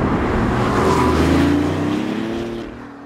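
A BMW i8 sports car drives past with a loud engine drone whose pitch sweeps upward before fading slightly toward the end, with no voices.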